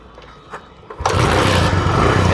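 A Suzuki Fiero motorcycle with an ignition current fault is kicked over; after a second of quiet clicks and low rumble, the engine abruptly bursts into a loud, steady, close running roar.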